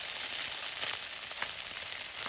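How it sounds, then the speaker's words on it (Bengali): Khoira fish frying in a hot wok, a dense continuous sizzle with small crackling pops, close and steady throughout. "তা এখন মাছগুলো ভাজা চলছে"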